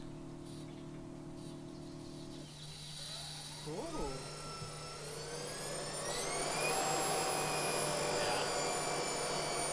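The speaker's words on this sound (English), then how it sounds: "So in neutral, I'm gonna see if I can rev it." Electric motor of a converted EV Mazda MX-5 Miata revving in neutral, a thin whine rising steadily in pitch over several seconds amid background noise, with brief talk near the start.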